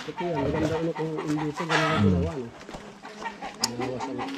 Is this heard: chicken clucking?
yes